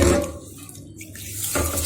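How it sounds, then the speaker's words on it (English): Rice and millet are swished and rinsed in water in a kitchen for dosa batter, giving a short burst of sloshing, splashing water close by. "Now we have to properly wash the rice and the millet 2 to 3 times."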